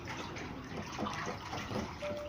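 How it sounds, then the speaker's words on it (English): Fresh water gushes steadily into a catfish tank, a continuous close splashing rush with no pauses and no talking. "I have to connect it now for new fresh water to go into the tank."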